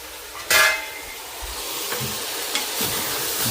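Mutton frying in a pan without oil, a soft steady sizzle with a sharp stirring scrape near the start and occasional light clinks of a utensil.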